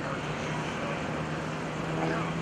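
A Team RV propeller aircraft flying aerobatic rolls at the 2011 Greenwood Lake Airshow, giving a steady, moderately loud engine drone with a low tonal hum that holds for the whole stretch.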